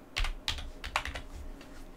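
Someone types a password on a computer keyboard while logging in to a CasaOS server, producing a few close, crisp key clicks in an irregular rhythm with no voices.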